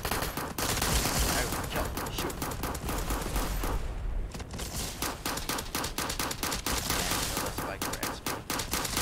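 Rapid video game gunfire from the shooter Base Battles, sustained bursts of shots crackling almost continuously at high loudness, with a brief lull midway and no talk.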